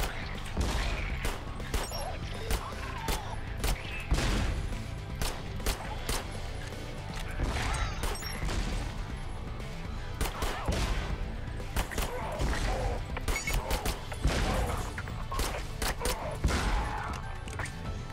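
Sustained gunfire from turrets and railguns in the sci-fi shooter Sentry, a dense, continuous barrage of rapid shots and metallic impacts layered over game noise for the whole stretch.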